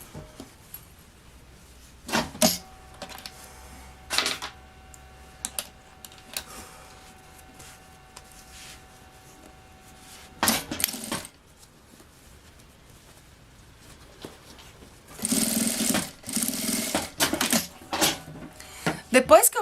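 A sewing machine stitches fabric for a children's backpack in short, fast bursts scattered across the recording, with a longer run of stitching near the end and quiet gaps between.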